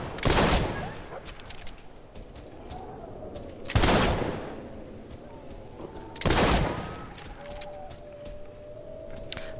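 Gunfire in the video game Fable III: three loud, sharp bursts spaced a few seconds apart, each with a short ringing tail, over a quiet game background.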